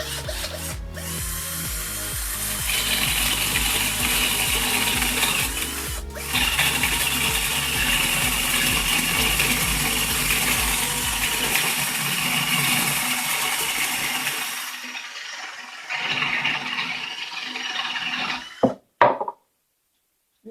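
A cheap mini chainsaw attachment on a cordless drill cuts wood with a loud, steady, close buzzing whine for about fifteen seconds. It then spins down, followed by a few brief clunks near the end.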